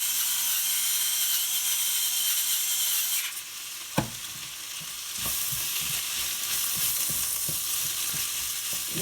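Oregano, black pepper and tomato puree fry in a pan for a vegan calypso bean bolognese, a steady close sizzle with a sharp clack of a utensil midway, followed by repeated scraping stirs.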